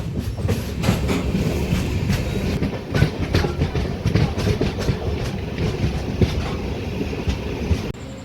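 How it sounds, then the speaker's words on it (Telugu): The Lingampalli Intercity Express rolls slowly past on a loop line at a red signal, a loud, close rumble of wheels with steady rhythmic clickety-clack over rail joints throughout. "Lingampalli intercity express. ఇక్కడ రెడ్ సిగ్నల్ ఇచ్చారు ఇక్కడ, అందుకోసం మెల్లగా వెళ్తుంది."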